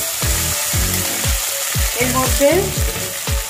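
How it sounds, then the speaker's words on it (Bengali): Tomatoes sizzle loudly in hot oil in a pan, close, with a steady frying hiss and a regular series of scraping stirs; a voice briefly speaks over it. "টমেটোটাও কিছুক্ষণ ভাজা হবে"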